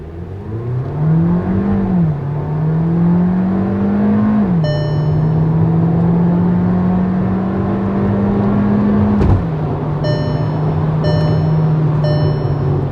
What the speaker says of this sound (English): But now again listen to the engine.